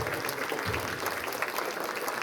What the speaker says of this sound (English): let's give our 8th graders a round of applause